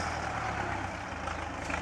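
A tractor engine runs steadily in a low, continuous rumble that holds even throughout, close by and with no voices over it.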